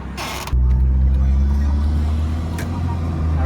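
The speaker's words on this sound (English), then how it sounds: "So we're gonna go for a ride and I'll show you how it rides." A lowered Honda Civic with painted wheels starts moving off: a brief rush of noise, then a steady, loud low engine drone that holds evenly, heard from inside the car with no talking.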